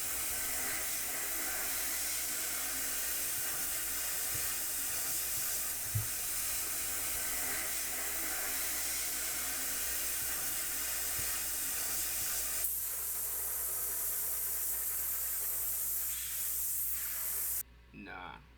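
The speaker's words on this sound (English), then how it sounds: "Like spraying the gun, man." A steady, close hiss of spray paint applied to a worn Desert Eagle pistol during restoration, running continuously with slight shifts in tone before cutting off near the end.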